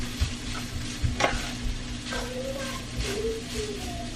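Shredded cabbage cooking down in a hot pan for a keto egg roll in a bowl, a soft continuous sizzle with occasional stirring clinks, close by, with a faint hum and brief high-pitched sounds in the background.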